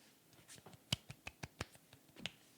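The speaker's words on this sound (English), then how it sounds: "Golf clap" Soft golf clapping at a restaurant table, about eight quick, light, dry claps in a loose row, quiet and close with little room noise around them.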